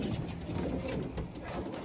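Racing pigeon hen cooing softly at close range, low murmuring coos running through the clip over a dense, steady loft background.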